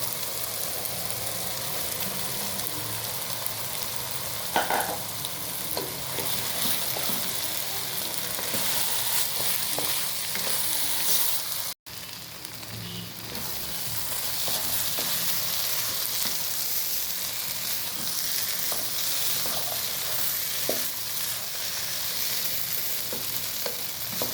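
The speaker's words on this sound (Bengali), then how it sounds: "মশলার সাথে চাল ডাল খুব ভালো করে কষানো হয়ে গিয়েছে" Rice and lentils sauté with spices in a hot pan for vegetable khichuri, a steady close sizzle and frying hiss with occasional stirring scrapes and clinks and a brief break midway, with no talk.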